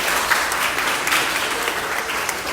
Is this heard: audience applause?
yes